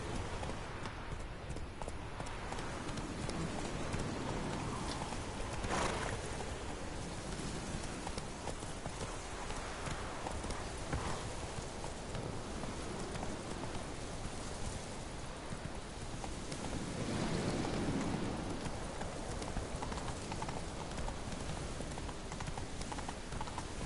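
Horse hooves clip-clop steadily through a Witcher 3 ride, a continuous trotting rhythm layered over a soft rain-like wash of ambient noise, with no talking.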